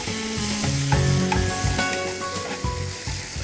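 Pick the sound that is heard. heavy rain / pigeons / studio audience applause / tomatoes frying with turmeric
tomatoes frying with turmeric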